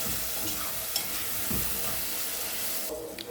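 Cumin and black pepper sautéing in a pot, giving a steady close sizzle with occasional stirring scrapes and clinks, continuous and moderately loud, no talk.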